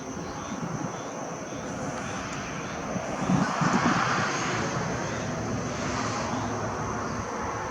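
A distant airplane drones overhead at sunset, a broad steady rumble that swells slightly midway and then holds, with some wind noise and faint background talk.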